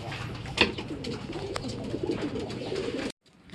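Racing pigeons coo softly in a loft setting amid a steady rustle and bird calls, with one sharper call near the start and the sound cutting out abruptly near the end.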